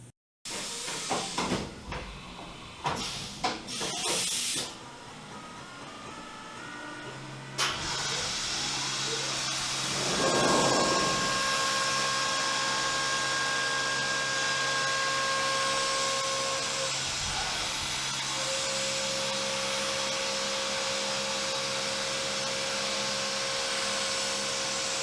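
A machine cuts new knife blades. A few knocks and bumps lead into a sudden steady rush of machine noise, with thin whining tones that rise and shift as the cut runs, close and continuous without speech.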